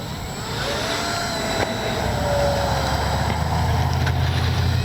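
A Dynam F6F Hellcat RC model airplane's engine whines steadily overhead, growing louder and fuller as it passes close by.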